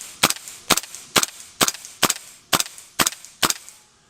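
A KWA PTS Mega Arms MKM AR-15 gas-blowback airsoft rifle fires nine sharp, evenly spaced semi-automatic shots at close range, each a crisp crack with a short mechanical echo.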